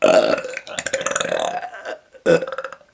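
A long, loud belch rumbles out up close, followed after a brief pause by a second shorter burp.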